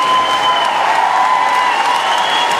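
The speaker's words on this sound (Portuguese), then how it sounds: "eu peço grande, grande, grande aplauso" A concert crowd in Weilheim Teck, Germany, claps loudly and continuously at a show, a dense, even wash of applause with a faint ringing tone from the sound system behind it.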